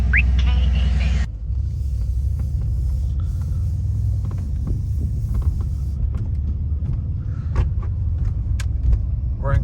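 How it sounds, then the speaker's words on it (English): A 2019 Mercedes C63 with a stage 2 tune starts up after a brief beep, and its engine settles into a deep, steady rumbling idle close by with small clicks over it. "let's start up this car"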